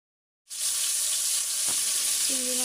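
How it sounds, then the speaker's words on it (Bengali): Shrimp dropped into hot soybean oil in a pan, the sizzle bursting in suddenly after a silent start, then a loud continuous hiss with a brief clunk partway through, heard close up. "তেল গরম হয়ে গেলে আমরা তেলের ভিতরে চিংড়ি মাছগুলো দিয়ে দিব।"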